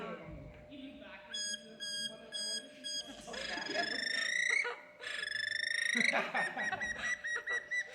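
A person at a furry convention mimics a car alarm with the voice, producing repeated high, harmonic warbling and whooping bursts that rise and cycle for several seconds, close and fairly loud, with some background chatter.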